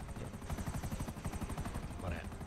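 A helicopter in GTA, its rotor giving a fast, steady thudding pulse throughout, fairly close and continuous, with a voice briefly speaking over it near the end.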